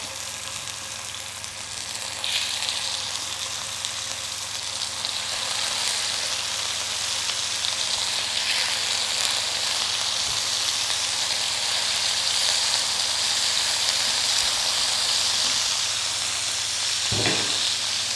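Rare breed pork sizzles steadily in a hot pan with fresh thyme, a loud, continuous frying hiss that holds throughout with no talking.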